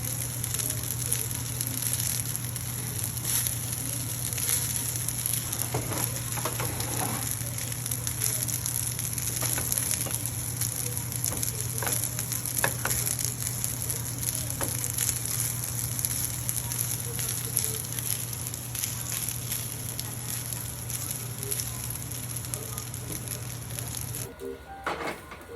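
Chicken adobo sizzles steadily in a hot pan while being stirred, a continuous dense frying hiss with occasional scraping clatters, loud and close, cutting off abruptly near the end.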